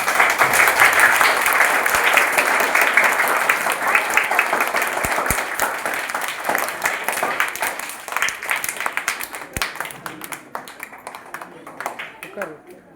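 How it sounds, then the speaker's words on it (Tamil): Audience clapping at a primary school literary event, a loud sustained round of applause that gradually thins out toward the end. "நல்ல ஒரு கைத்தட்டல் கொடுத்தா பாராட்டு"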